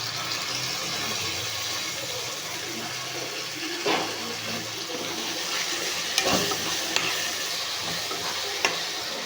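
Ground tomato (three tomatoes' worth) goes into a pan of frying okra, giving a steady sizzle with scattered stirring scrapes and clinks, fairly quiet and without voices.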